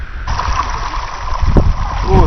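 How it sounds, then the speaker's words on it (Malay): Mountain water scooped from a stone basin for washing on Pulau Perhentian, with continuous splashing and trickling up close and a few louder scoops near the end. "Orang macam boleh ambil air gunung tu, macam cedok-cedok untuk basuh-basuh je lah."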